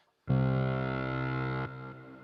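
A heavy, distorted synth bass note holds for over a second, then cuts off, leaving a wide reverb and echo tail trailing away.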